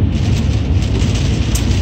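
Steady, dense Pacific Northwest rain noise with a low rumble underneath, continuous and fairly loud throughout, with no voices.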